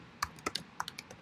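Fingers tap a computer keyboard in a quick, uneven run of about eight soft, close keystrokes over a quiet background.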